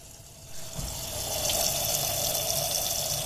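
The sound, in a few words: water filling a Volkswagen Jetta 97 engine coolant reservoir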